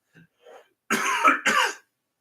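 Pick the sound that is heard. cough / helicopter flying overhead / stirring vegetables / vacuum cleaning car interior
cough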